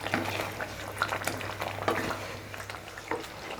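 A spoon stirs thick chicken gravy in a pan, with repeated scraping strokes and soft bubbling sizzle up close.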